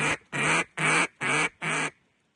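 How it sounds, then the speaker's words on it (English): A hand-blown duck call gives five loud, evenly spaced raspy quacks in quick succession, each about a quarter second long, close up and alone before falling silent. "they can show you how to use a duck call"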